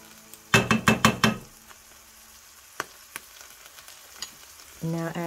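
A spoon scrapes and clacks through tuna and onions in a frying pan, making a quick run of five or six rhythmic strokes over a soft sizzle, then a few isolated taps.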